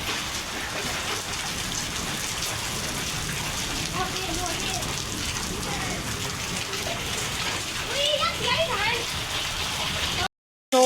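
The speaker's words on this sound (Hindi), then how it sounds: "भयंकर वाली बारिश आ ही गई है दोस्तों" Heavy rain pours down steadily in a cool, breezy downpour with hail falling, a dense continuous wash of drumming drops on a wet courtyard, with brief sharper patters near the end.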